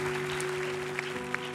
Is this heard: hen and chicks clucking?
no